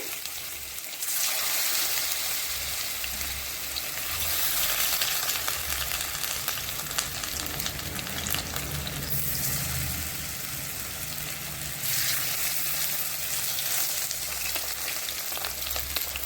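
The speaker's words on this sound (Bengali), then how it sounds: "দেখো, এখন ভাজা হোক ধীরে ধীরে।" Batter-coated pumpkin leaf fritters fry slowly in oil, a steady close sizzle and bubbling hiss that swells and eases over several seconds, with a faint low hum underneath and no voices.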